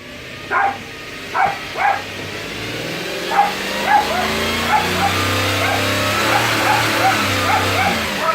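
A dog barks repeatedly in short bursts over the steady low rumble of an idling 2008 Subaru Outback flat-six boxer engine.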